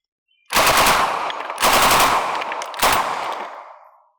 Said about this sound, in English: watch how quickly we can burn through some ammo